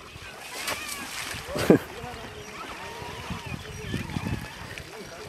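An elephant calf bathing in a river makes splashes and sloshing water, with one louder splash in the middle, under people's voices speaking throughout.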